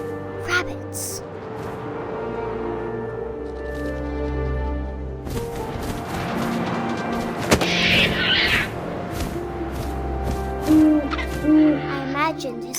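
An owl hoots in the game What Remains of Edith Finch, low resonant calls sounding amid wind and a dull boom, with a narrator speaking over part of it.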